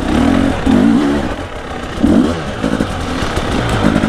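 Enduro motorcycles ride together, with loud, close engine drone, surges of revving and some clattering over rough ground.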